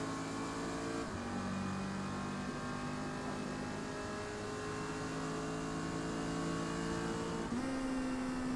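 Mazda MX-5 race car engine in Forza Motorsport at Kyalami, C class, droning steadily with pitch shifts as it drops and climbs through gears, constant and loud with no talk.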